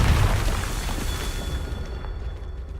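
Fire-spell blasts from Confringo in the Hogwarts Legacy video game erupt into a heavy, rumbling explosion that starts loud and slowly fades over a few seconds, with faint crackling debris and mechanical rattles trailing off at the end.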